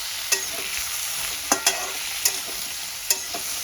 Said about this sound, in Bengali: এখন সুন্দর করে একটু কষিয়ে নেব।